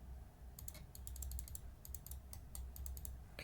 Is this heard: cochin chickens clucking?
no